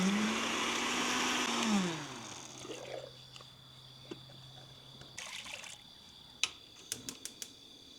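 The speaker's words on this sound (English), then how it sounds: "here's a quicker way you can do it in the blender with the dried whole plants" A blender whirs loudly as it grinds dried whole wild lettuce plants, its motor whine winding down after about two seconds, followed by quieter scattered clicks and light clatter of the jar.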